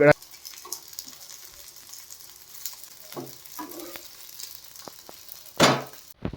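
Brinjal slices fry in hot oil with a faint, steady sizzle, broken by a few soft handling bumps and one louder burst of spitting oil near the end.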